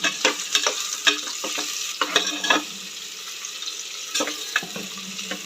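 Onion frying with ginger garlic paste for kuska, where a soft sizzle sits under repeated scraping and stirring strokes of a spoon against the pan, coming in uneven bursts with short quiet gaps.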